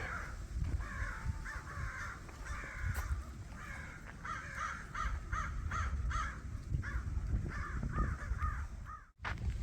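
American crows caw repeatedly in bursts of harsh calls, some overlapping, at moderate distance over a rough outdoor rumble, in the Bosque wildlife area.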